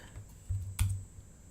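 A few soft taps on a computer keyboard enter a value, light and close, with a brief cluster of keystrokes in a quiet room.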